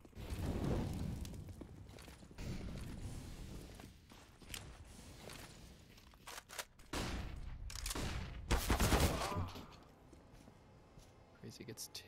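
Rifle fire from M4s and AKs in a Counter-Strike esports match comes in sharp bursts and scattered shots with footsteps, mixed under an excited commentator's voice.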